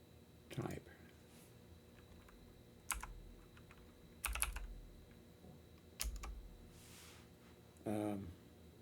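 Computer keyboard typing heard as a few isolated bursts of key clicks spaced a second or more apart, fairly close and quiet, with occasional soft thumps and no talking between them.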